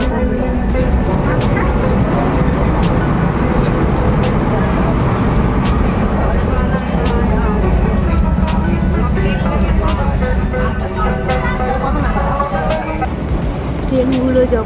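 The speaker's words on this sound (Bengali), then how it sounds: "ট্রেনগুলো যখন বড় বড় ব্রিজগুলো পার হয় নদীর, সত্যি আমার এই আওয়াজটা দারুণ লাগে।" A passenger train bound for North Bengal crosses a large river bridge, giving a loud, steady, continuous rumble and clatter that fills the whole stretch without letup.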